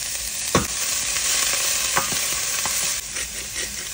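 Onions, ginger slivers and garlic hit hot oil in a wok, giving a loud, continuous close sizzle with a few sharp stirring clacks and no voices.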